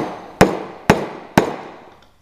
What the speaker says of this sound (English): So if I put nail onto the wood and then you pound it in.